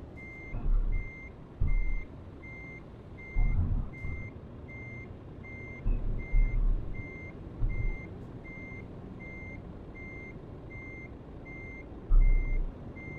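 Reversing beeps sound from a truck in the Euro Truck Simulator 2 video game, played with a G920 wheel, a steady evenly spaced electronic beep over a low engine rumble with occasional heavier thumps.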